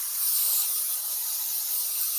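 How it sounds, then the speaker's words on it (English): Cooking spray hisses steadily from a can onto a baking pan for Irish soda bread, one continuous close, bright spray with no talk. "So I'm going to spray this really well"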